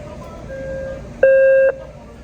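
A subway fare reader lets out a single clear electronic beep, about half a second long, as a credit card is tapped at the turnstile, rising loud over a steady station hum.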